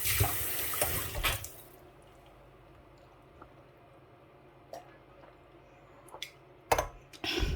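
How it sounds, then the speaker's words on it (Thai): Cold water runs from a kitchen tap, a brief broadband gush at the start and again near the end, with a quiet stretch and a few small splashes and drips in between. "น้ำเย็นๆเปิดจากก๊อกเลยจ้ะ"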